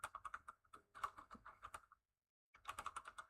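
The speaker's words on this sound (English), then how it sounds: "So my typing is horrible today." Rapid, uneven keystrokes clatter on a computer keyboard in quick bursts, stop for about half a second, then resume at close range.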